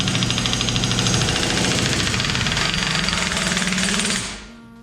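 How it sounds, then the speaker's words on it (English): A 1-inch air impact gun hammers at a locking ring on a BMW E28 rear axle, a loud, dense, steady rattle running for about four seconds before cutting off and fading. "And then we take our 1-inch air gun,"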